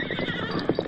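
A horse whinnies loudly and close in an old-time Western radio drama, a short burst of neighing over faint hoof clatter, with no voices.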